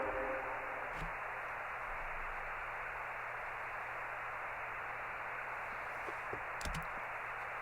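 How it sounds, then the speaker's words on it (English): Steady, broadband hiss of white noise fills the whole stretch, with a few faint clicks and ticks scattered near the start and toward the end. "Just white noise, basically"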